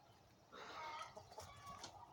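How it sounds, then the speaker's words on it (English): Faint clucking from a rooster, a few quick throaty notes at a distance against low background noise. "The rooster heard me."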